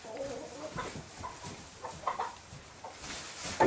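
Chickens cluck softly inside a chicken house, with scattered short clucks and a few sharper squawks toward the end, fairly faint and close, with no talking.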